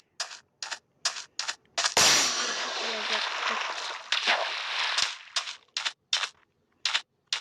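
A bomb explodes in a Minecraft weapons mod: a sharp blast at about two seconds rumbles for several seconds amid repeated crisp game gunshot pops before and after, all loud and alone.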